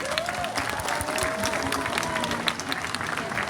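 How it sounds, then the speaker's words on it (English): Sustained applause from a sea lion show audience at Hersheypark, Pennsylvania, steady dense clapping with some crowd noise throughout, fairly close and even in loudness. "All of our animals do know exactly what the sound of your applause means"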